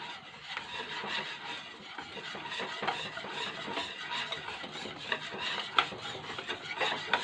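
A spoon stirs a breading mixture made without milk or yogurt in a bowl, giving a steady soft scraping and rubbing that runs continuously at close range, with occasional light clinks.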